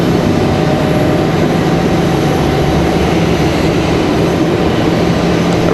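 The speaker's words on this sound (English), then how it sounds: "We do have that 757 taxiing out, getting ready to head back to Atlanta." A Boeing 757 airliner taxiing at Raleigh-Durham airport gives a loud, steady, broadband engine roar heard from outdoors. It holds without change for several seconds, and no voices are heard.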